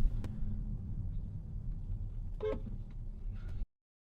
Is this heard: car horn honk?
yes